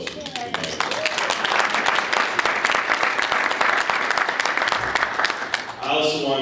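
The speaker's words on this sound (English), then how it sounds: "So I'd like another round of applause for the mayor." An audience applauds the mayor at a sustainable travel and tourism breakfast, a loud, dense wash of clapping that runs steadily for several seconds before a speaking voice takes over at the end.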